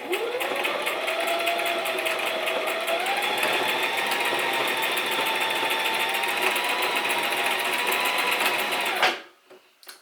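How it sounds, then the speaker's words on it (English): A sewing machine stitches a fabric mask with back stitching at the start and end, a steady close mechanical whir running continuously for about nine seconds before stopping abruptly. "So I'm going to put this in my sewing machine."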